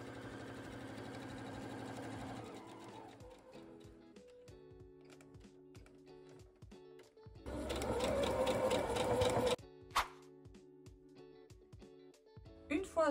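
A sewing machine stitches two fabric squares together in quick mechanical bursts, a rhythmic whirring that starts and stops, with a louder run in the middle and brief clicks and handling noises between, under occasional quiet speech.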